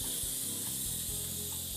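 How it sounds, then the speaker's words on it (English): Olive oil spray misted quickly onto tin foil lining a baking tray, a continuous bright hiss held close to the microphone across the whole moment, with faint low thumps underneath and no speech. "So we're just gonna spray that really"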